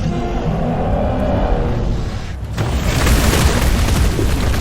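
Dragons making a strafing run in RuneScape: Dragonwilds, their explosions building into a loud, heavy rumbling roar that swells sharply midway and stays thunderous, close and without talking.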